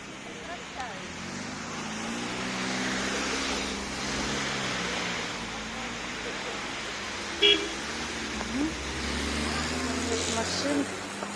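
Cars pass along a flooded federal highway, a steady wash of tyres and engines through water rising and fading over several seconds, with a brief horn toot and voices talking nearby.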